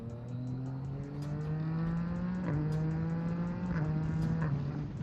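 A Yamaha MT-09 motorcycle with a quick shifter runs loud and close, its engine note holding steady then dipping slightly at shifts, with a few sharp pops over the drone.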